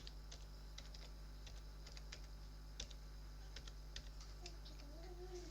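Password typed on a computer keyboard during a Linux Ubuntu root password change: a steady run of soft, quick key clicks at close range over a low hum, with no talking.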